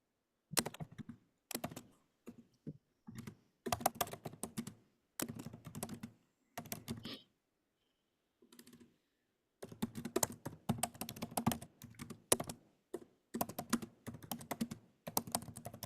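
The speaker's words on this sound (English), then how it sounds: "You want to mute your keyboard." Computer keyboard typing in bursts of rapid clicks with short pauses, close and fairly loud, on an online lobby training call for Massachusetts divestment legislation; no talk.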